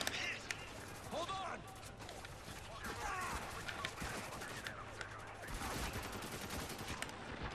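Gunfire in the war shooter Spec Ops: The Line, bursts of rapid shots and scattered impacts continuing under people talking over the game.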